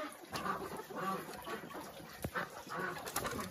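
Chickens in a rural hillside farmyard near a pig pen, with a rooster among them, giving soft, close, intermittent clucks and low calls at modest volume, with no one talking.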